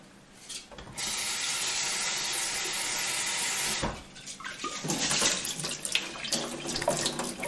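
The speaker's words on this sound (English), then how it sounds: "You just give it a rinse" Tap water runs steadily over mung bean sprouts being rinsed, a bright continuous splashing that cuts off briefly, then returns as uneven, close dripping and sloshing.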